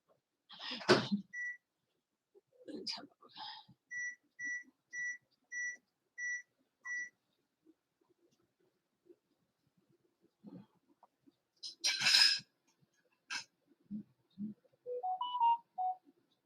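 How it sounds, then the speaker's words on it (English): A mobile phone gives a series of six short evenly spaced beeps, clear and isolated, surrounded by sparse bursts of nearby speech in a quiet room. "My phone's going beep, beep, beep, beep, beep,"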